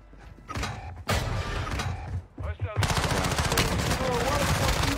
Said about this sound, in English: Just trying to reload.